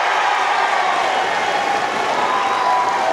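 Indoor arena crowd applauding and cheering steadily at a men's open netball match between Victoria and New South Wales, a dense continuous roar of claps and voices with no clear breaks.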